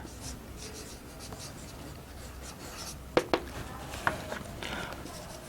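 Pen scratching on paper while working a physics numerical, soft continuous strokes with a few sharper taps near the end, close and quiet, with no speech over it.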